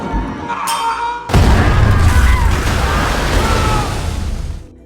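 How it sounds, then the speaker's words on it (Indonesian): A bomb trap goes off in an action film, a sudden loud blast that cuts off a quieter scene and is followed by a long roaring, crackling rumble of debris fading over several seconds. "ada satu anak buah James yang panik lalu menginjak jebakan bom"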